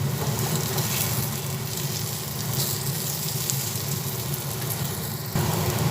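Spices with turmeric and cumin powder fry in a pan for milk chicken, making a dense, continuous sizzle, fairly loud and close, with no talking.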